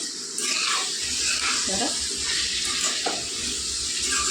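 Raw prawns and tender drumsticks sizzle in a pan on the stove while a spoon stirs them, giving a steady frying hiss broken by a few scraping strokes, close and moderately loud.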